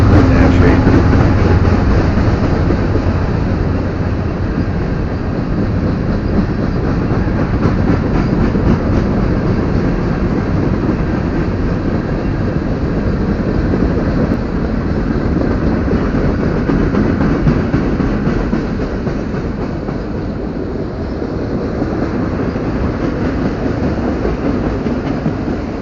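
A loaded BNSF coal train rolls past close by, a continuous heavy rumble with rhythmic clickety-clack of wagon wheels over rail joints, holding steady and loud for the whole stretch and easing slightly near the end.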